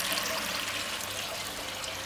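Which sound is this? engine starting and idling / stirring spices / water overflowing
water overflowing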